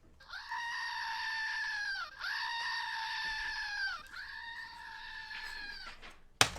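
A goat gives three long, loud, wavering bleats one after another, each a strained nasal cry, followed by a brief sharp knock at the end.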